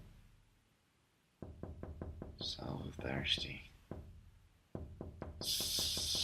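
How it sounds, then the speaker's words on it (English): Knocking at a door in two fast, evenly spaced runs of sharp raps, close and clear, with a whispering voice between the bursts. "Somebody's knocking at the door."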